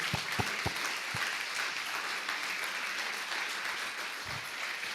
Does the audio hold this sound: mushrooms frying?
no